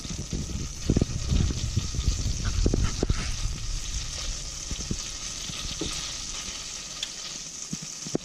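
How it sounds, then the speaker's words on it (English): Liquid bubbling and sizzling in a cooking pot, a steady close simmer with scattered pops and stirring clicks, heard alone without talk. "Oh, listen to that sound. Bubbles. Bubble, bubble, bubble."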